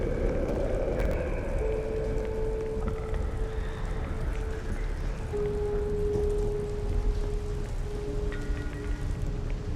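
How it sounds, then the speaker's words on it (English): Steady rain falling on a rainy night in the horror video game The Medium, a dense continuous wash with a low sustained musical tone underneath. "A rainy night sets a mood, and thunders echo the sound of piano."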